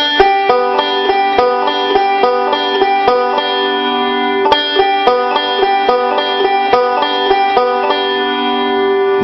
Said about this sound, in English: we can start the forward roll on our middle finger